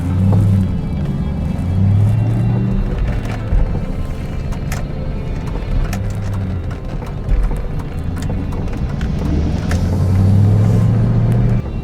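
An Australian Ford Mustang's engine drones steadily from inside the cabin, with low rumbling and occasional shifts in pitch as it drives along, continuous throughout.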